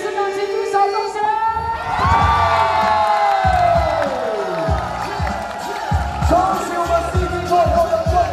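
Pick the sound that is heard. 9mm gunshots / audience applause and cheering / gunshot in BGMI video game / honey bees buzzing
audience applause and cheering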